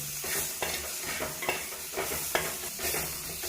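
Mutton curry with added tomato is sautéed in a pan, a continuous sizzle broken by regular stirring strokes about every half second, close and fairly soft.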